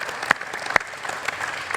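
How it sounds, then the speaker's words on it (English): Audience applause at a Q&A session with Bryan Clay and Tim Cruickshank: a steady patter of clapping from a seated crowd, with a few sharper, nearby claps standing out above the wash. "That's worth a round of applause."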